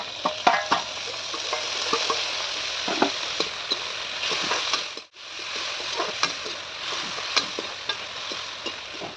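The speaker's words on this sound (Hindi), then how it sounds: "उसके बाद अपना कटा हुआ टमाटर और लहसुन को डालेंगे।" Chopped tomato and green garlic frying in a pan with onion, chilli and ginger for a winter vegetable curry, a steady close sizzle broken by repeated scraping stir strokes, with a brief drop in the middle.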